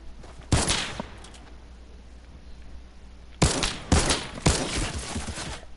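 Gunfire from a gun in a video game: one short burst of shots, a pause, then three more loud, sharp bursts in quick succession, close and punchy.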